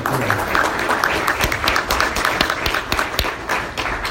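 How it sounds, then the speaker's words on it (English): A conference audience gives a round of applause for a panel that has just spoken, dense continuous clapping from a crowd, loud and steady for the whole stretch with no speech over it. "Big round of applause for our first panel."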